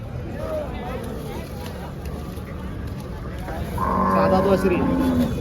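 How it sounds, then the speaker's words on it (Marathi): A cow gives a long, loud moo that slides downward in pitch, rising over a busy crowd murmur of an outdoor cattle market for HF and Jersey cows in Chalisgaon. "तर मित्रांनो गाई बघा"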